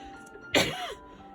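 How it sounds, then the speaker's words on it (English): A single short, sharp cough up close, rough and throaty, standing out against a quiet background hum. "Excuse me, didn't mean to cough there."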